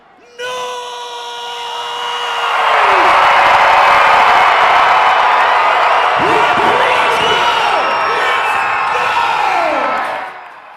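A stadium crowd of about 10,000 baseball fans in Louisville, Kentucky erupts in loud, sustained cheering and whooping that swells after a couple of seconds, holds steady, then drops away near the end.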